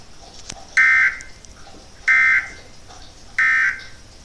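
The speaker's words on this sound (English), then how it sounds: "This is a test of the emergency alert system." Emergency Alert System test tone from a Dallas-Fort Worth broadcast station: three loud, evenly spaced electronic beeps, each about a third of a second, repeating roughly every 1.3 seconds over a faint background.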